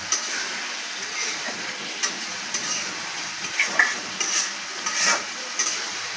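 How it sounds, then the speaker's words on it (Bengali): Meat frying in oil in a pan for biryani, a low steady sizzle broken by scattered stirring clinks and scrapes of a utensil against the pan. "দেওয়ার পরে গোশটা একটু তেলে সুন্দর করে ভেজে নেবো"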